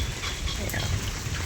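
Heavy rain with strong gusting wind in a stormy outdoor setting, a dense continuous hiss and roar that fills the short clip at steady loudness.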